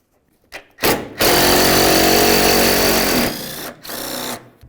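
A power tool whirs steadily for a couple of seconds while backing a 10mm bolt out of the bumper on a 2000-2005 Buick LeSabre, with short bursts before and after, loud and close.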